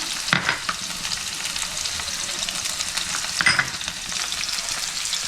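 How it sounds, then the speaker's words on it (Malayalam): Capsicum, onion and other vegetables sauté in a hot pan with a bright, steady close sizzle, punctuated by two short scraping stirs, and no voices. "ഇതിലേക്ക് നമുക്ക് നമ്മുടെ വെജിറ്റബിൾസും കൂടി ഇട്ട് ഒന്ന് വഴറ്റിയെടുക്കാതെ"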